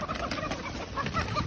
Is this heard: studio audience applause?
no